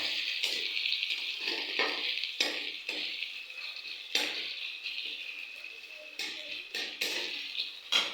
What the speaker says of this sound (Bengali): পেঁয়াজ ফোড়ন দিয়েছি এখন হালকা নাড়বো